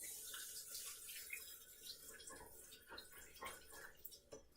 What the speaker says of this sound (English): We're gonna give this lime a little rinse